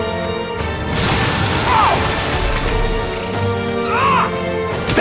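Raging Fire attack skill in the Metaphor ReFantazio video game: two whooshing fiery swipes, each followed by a crashing impact, layered over loud battle music and combat noise.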